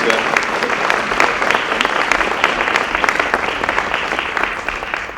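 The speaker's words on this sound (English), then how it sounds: "A round of applause for that one." Loud, sustained applause from an audience at a ballet event, many hands clapping in a dense, even roar that carries on without pause for the full stretch.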